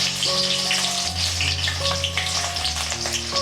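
Small chopped onions fry in hot oil for an egg curry, giving a steady close sizzle and crackle with bright spits and pops throughout, alone with no talk.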